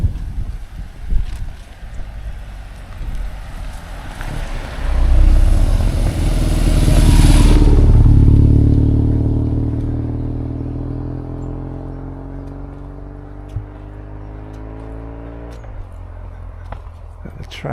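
A motor vehicle passes along a narrow country road on Jersey, swelling from a distant rumble to a loud close pass around the middle, then fading slowly as a steady low drone, with wind noise on the microphone throughout.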